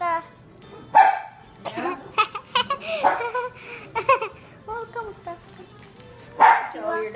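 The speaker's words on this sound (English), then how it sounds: "Why is your dog barking" A dog barks a few times amid lively nearby talk and laughter, the barks short and sharp between voices.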